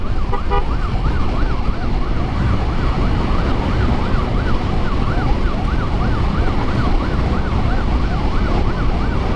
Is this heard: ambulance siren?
yes